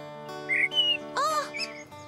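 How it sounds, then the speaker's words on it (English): Cartoon little bird chirping in the snow, a few short high tweets in quick succession over a soft steady background, clear and close. "the little bird outside is hungry and must be really cold in the snow"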